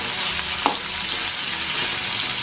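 Chopped onion and curry leaves frying in oil for spicy Maggi noodles, an even crackling sizzle with one brief spoon tap, close and continuous without speech.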